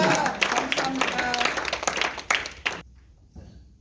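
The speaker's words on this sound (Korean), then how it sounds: "우리가 하나님께 영광의 박수" Audience applause and clapping at a Korean church-style political rally in Los Angeles, a dense loud burst of many hands that cuts off abruptly near the end, leaving a faint murmur behind.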